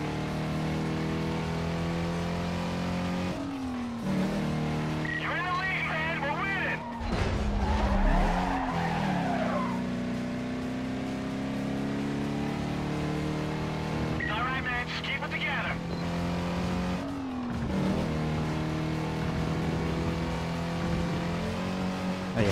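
Race cars in the PS2 game Need For Speed: Carbon, engines droning steadily with two bursts of tire squeal from skidding through turns, while someone talks over the gameplay.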